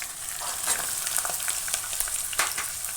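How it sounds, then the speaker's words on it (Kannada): Carrots frying in hot oil and being stirred in a pan for pasta, a steady close sizzle with repeated scraping stir strokes and no talking. "ಈಗ ನಾನು ಕ್ಯಾರೆಟ್ ಹಾಕ್ತಾಯಿದ್ದೀನಿ."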